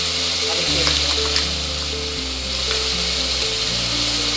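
Ginger and garlic paste frying in a pan for mutton biryani, a continuous loud sizzle with occasional stirring scrapes, beneath a steady background melody.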